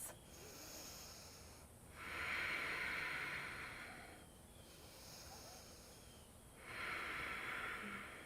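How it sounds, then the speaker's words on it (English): Three slow, deep yoga breaths drawn in and out through the nose, each a soft airy rush that swells and fades, close and quiet with short pauses between them. "Let's take 3 breaths."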